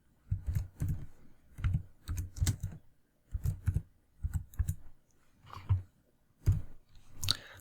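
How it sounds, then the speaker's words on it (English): Quick bursts of close computer-keyboard typing, clustered clicks and key taps in short runs separated by brief pauses, with no talking. "just press enter and you can type some text"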